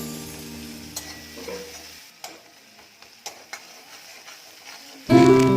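Onion stirred with ginger and garlic paste in a pan, a few soft scraping clicks of the spoon against the pan over a low background, ending in a sudden loud sizzle near the end.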